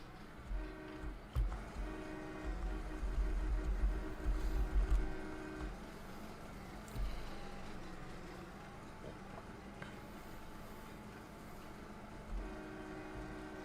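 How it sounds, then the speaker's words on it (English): A train in the farming game Farming Simulator 22, a low rumbling run with sustained horn-like tones and swelling engine noise, fairly faint overall, with some talking in places. "I think it's the same train as before."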